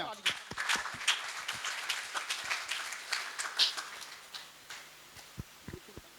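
Applause rises from an audience at a religious discourse held inside a jail, dense crisp clapping filling the first half and thinning to scattered claps, with faint voices beneath.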